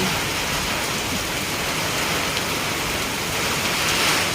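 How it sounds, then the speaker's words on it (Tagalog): Heavy, dense typhoon rain roars steadily and loudly, a continuous wash of pounding water with no pauses or voices. "as in sobrang dami na pong ulan"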